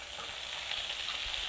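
Chopped onions frying in a pan for chicken curry, a steady close sizzle with soft crackle throughout, no voices.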